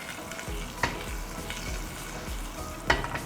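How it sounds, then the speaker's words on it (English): Moringa leaves frying lightly in hot oil, a steady low sizzle with a few sharp stirring clinks and scrapes at intervals, no talking. "So let's add the moringa leaves, lightly fry it and then take out a few pieces for garnish."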